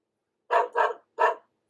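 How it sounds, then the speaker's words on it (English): Three sharp barks from a cartoon dog in an animated children's story, two in quick succession and a third after a short pause, fairly close with nothing else around them. "Hey, where's that bark coming from?"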